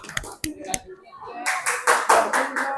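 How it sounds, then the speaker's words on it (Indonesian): Classroom applause for a student: a few scattered early claps and brief voices, then a burst of group clapping that grows fuller and continues steadily to the end, close and fairly loud. "Ayo Mas, tepuk tangan untuk Budi."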